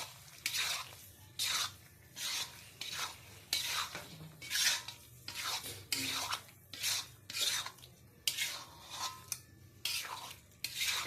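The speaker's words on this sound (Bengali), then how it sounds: "এবারে এতে দিয়ে দেবো ওই যে চালমগজ বাদাম সব যেগুলো করে রেখেছিলাম ওইটা দিয়ে এবার একটু নেড়ে" Roasted cashews and mixed nuts being stirred into a cooking dish with a utensil, giving repeated scraping, rasping strokes in a steady rhythm, close and fairly quiet, with no talk.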